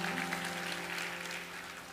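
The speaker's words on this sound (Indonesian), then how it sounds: "kasih tepuk tangan untuk Pastor Puji" A church congregation applauding for a pastor, a steady, fairly quiet spread of many hands clapping together over a low sustained musical hum from the hall.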